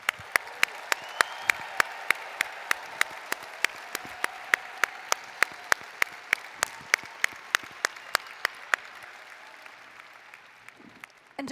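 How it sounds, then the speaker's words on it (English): Applause for doctoral and professional degree graduates at a spring commencement ceremony, steady sharp claps in a large venue with a faint crowd wash beneath, continuing evenly for several seconds. "Everyone, let's give our graduates a round of applause."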